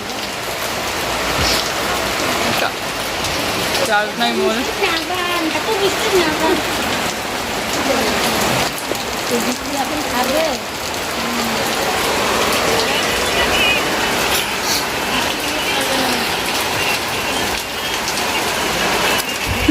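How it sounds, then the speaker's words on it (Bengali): Heavy late-night rain pours down steadily, a dense constant patter on surfaces, with faint voices murmuring underneath at times. "এত বৃষ্টিতে আর কি করে যাই বসে অপেক্ষা করতেছি বৃষ্টি কমার"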